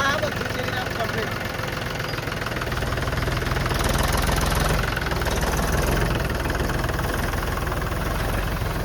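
A Mahindra tractor engine runs at a steady idle with a continuous, close, throbbing drone that barely changes over the whole stretch. Voices can be heard faintly under the noise.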